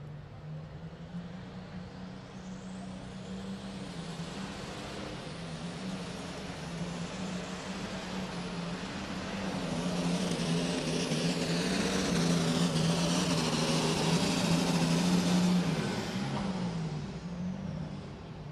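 A light super stock pulling tractor roars at a loud, steady drone down the track at a tractor pull in Louisville, Kentucky, the engine sputtering and swelling louder midway with a harsh, strained tone, no voices over it.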